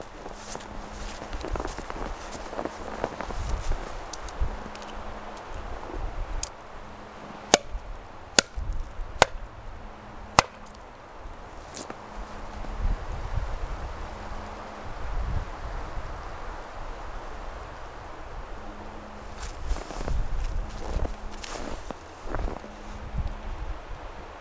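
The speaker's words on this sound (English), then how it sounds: "we're gonna do some wood knocks real quick and get the night started" Several sharp, isolated wooden knocks ring out one after another in a windy Montana forest at night during a Bigfoot hunt, standing out against steady wind noise and rustling footsteps.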